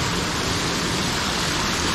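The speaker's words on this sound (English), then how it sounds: "We're in the thermal springs." Natural geothermal spring pools at Hanmer Springs, New Zealand, with warm water from underground, give a steady, loud rush of splashing water. It is a constant even wash with no voices.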